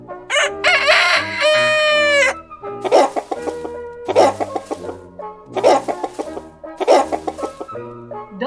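Hens cluck and a rooster crows loudly and up close inside a henhouse. A crow comes early, then bursts of clucking repeat in a rhythmic pattern with short pauses.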